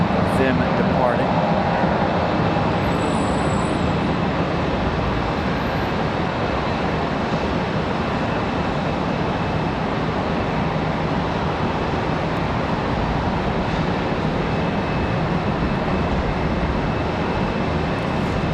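Airliners departing Charlotte Douglas airport produce a steady, broad jet roar that holds at a constant loud level throughout, with no distinct individual passes standing out.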